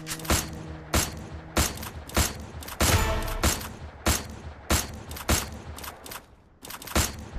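Rapid bursts of gunfire in a battle royale video game, a string of sharp loud shots at irregular intervals with short pauses between volleys, heard alone without talk.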